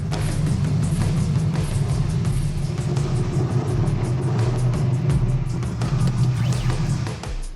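A rebuilt Ford 460 V8 engine, fired up for the first time in the car, rumbles loudly and steadily, a deep continuous idle with slight throttle variations throughout.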